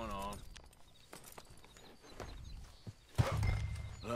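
Horse hooves clip-clop under game dialogue in Red Dead Redemption 2, the steps irregular and fairly close, mixed with a brief whinny-like burst near the end and someone talking over it.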